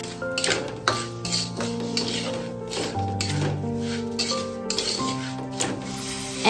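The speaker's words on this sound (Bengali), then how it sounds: "গোবিন্দভোগ চাল কড়াতে দিয়ে নাড়তে হবে।" Gobindobhog rice and lentils being stirred in a metal wok, with repeated clinks and scrapes of a utensil against the pan under steady background music.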